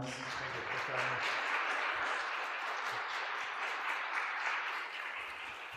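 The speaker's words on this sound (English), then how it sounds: "Let's give him a round of applause." An audience in a church gives a steady round of applause, a soft, even wash of clapping that holds for several seconds before tapering slightly.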